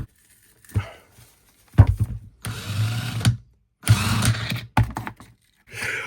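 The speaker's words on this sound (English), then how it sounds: "When it stops, kinetic energy or whatever you want to call it is making it fire off." A cordless impact driver fires in several short, sharp bursts of hammering, close and loud, with gaps of silence between them as it keeps firing off after stopping.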